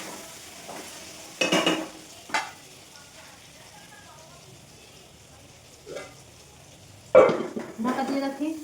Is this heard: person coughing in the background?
no